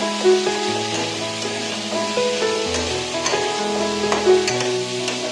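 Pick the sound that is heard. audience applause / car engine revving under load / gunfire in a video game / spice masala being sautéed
spice masala being sautéed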